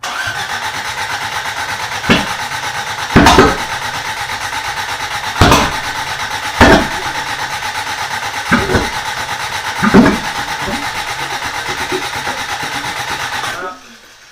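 A Toyota Corolla engine cranking repeatedly without catching after a rebuild, with a steady starter whir broken by several loud thumps and bangs, close and loud before cutting off.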